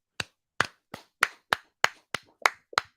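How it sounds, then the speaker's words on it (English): About nine separate, crisp hand claps at a slow, steady pace, close and fairly quiet, with silence between each, from a small group at a CrossFit Games discussion. "Are we going to start with like a round of applause?"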